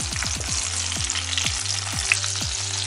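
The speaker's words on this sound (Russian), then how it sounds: "Обжариваем с другой стороны." Young zucchini slices sizzle steadily in a frying pan, a loud close crackle of oil under a repeating rhythmic low thudding in the background, no voices.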